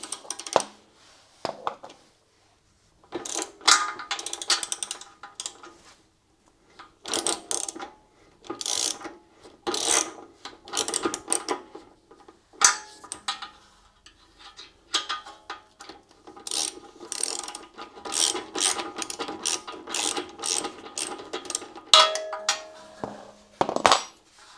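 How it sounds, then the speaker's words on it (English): A ratchet spanner works the rear wheel bolt on a Royal Enfield Classic 350 Reborn motorcycle, giving rapid close metallic clicking in repeated bursts with short pauses, clear and loud throughout. "Might need a spanner for the rear of this one."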